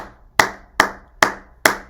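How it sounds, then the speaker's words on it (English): Four evenly spaced hand claps ring out close and clear at about two per second, each a sharp single slap with a quick decay, heard alone at a gala event. "That's amazing and deserves a round of applause."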